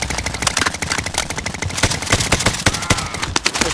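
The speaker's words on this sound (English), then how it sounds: "Shots." Rapid gunfire from the video game Call of Duty: Modern Warfare, a dense stream of sharp loud shots and bursts continuing throughout with no pauses.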